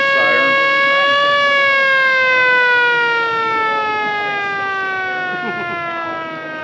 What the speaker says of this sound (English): Little defense siren.